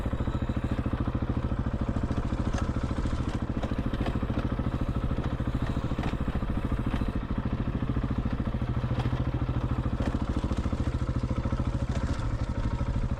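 A Husqvarna 701 dual sport motorcycle ridden off-road without ABS, its single-cylinder engine droning steadily and loud throughout with rattling clatter over the top, close and continuous.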